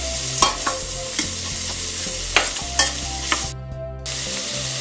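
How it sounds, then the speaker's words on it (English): Onions sizzle over high heat in a pan, a steady close frying hiss punctuated by several sharp utensil clinks and scrapes against the pan, with no voices. "we're going to keep sauteing until our onions are nice and clear"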